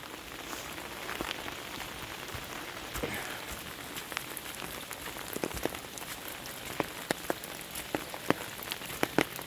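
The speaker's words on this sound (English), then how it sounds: "We confirmed that downspout worked yesterday, and that is flowing so much." Water flowing from a downspout in torrential rain during a March flood in Douglas County, Oregon, a steady hiss of rainwater with scattered sharp drips and splashes rising toward the end.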